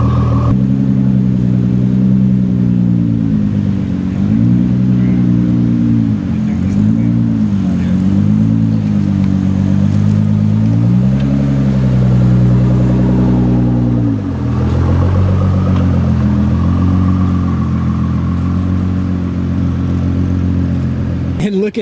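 A new Ford GT with the EcoBoost six-cylinder revs loudly and close by, its pitch swooping up and down in repeated blips before settling into a steady roar, with people talking around it.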